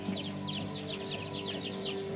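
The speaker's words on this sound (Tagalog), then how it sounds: "Yan yung mga sisiyo natin." Month-old chicks chirp and cluck in a steady, busy chorus, high peeps repeating throughout against a constant low hum.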